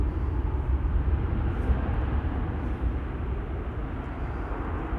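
A steady, loud jet airliner roar near Amsterdam Schiphol Airport, a Her Airlines flight bound for Erbil, Iraq, a broad low rumble holding level for the full stretch with no voices.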